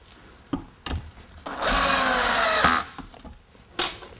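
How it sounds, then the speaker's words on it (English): A power drill drives screws to fix a post and beam bracket onto a vertical wooden post, a loud steady whir of about a second and a half between short knocks and handling clatter. "Once we located where the bracket has to be positioned on the vertical post, we simply screw it on."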